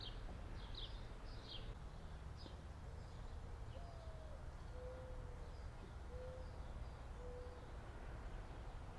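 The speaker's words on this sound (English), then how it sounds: "I hear the mourning doves in the background." Mourning doves coo softly in a backyard garden in midsummer heat, a few faint, level notes drifting from some distance beneath steady hiss and the high chirps of other birds.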